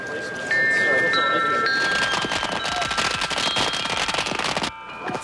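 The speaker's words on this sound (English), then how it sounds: "firecrackers fill the air with flashes of noise and smoke" Rapid strings of firecrackers crackle and pop continuously, dense and loud, with a few whistling tones mixed in before it briefly quiets.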